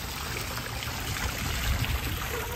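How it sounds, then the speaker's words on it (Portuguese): A small repaired water stream trickles steadily in Jerusalem, a continuous soft wash of flowing water heard close with no voices. "E esse barulho dessa aguinha aí é maravilhoso, né?"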